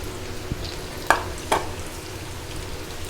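Cubes of bread fry in hot oil with a faint, steady sizzle, broken by two or three sharp clinks of a utensil stirring nearby.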